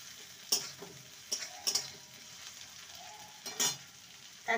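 Onion fried until red and a chopped medium tomato being sautéed in a pan: faint, quiet sizzle broken by a handful of sharp ladle taps and scrapes against the pan.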